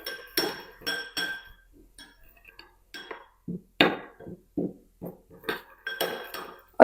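Onion salad being mixed with spices and white vinegar in a glass bowl, a spoon clinking sharply against the glass in repeated bursts, close and loud, with short quiet gaps between strokes.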